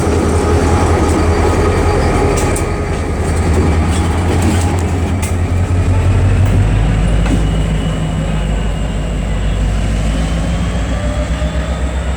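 A train engine rumbles past up close at Bryson City, North Carolina, a steady heavy low roar with rolling wheel noise and faint metallic squeals, continuous throughout with no voices.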